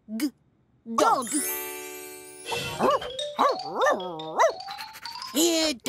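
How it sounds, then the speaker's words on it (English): A cartoon dog gives several short, bright barks in quick bursts, mixed with voiced, sing-song vocal sounds and a light chiming tinkle between them. "Dog."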